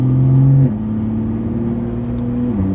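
BMW F30 exhaust droning at a low, steady engine note that drops in pitch after a brief higher start, loud and close with no talking.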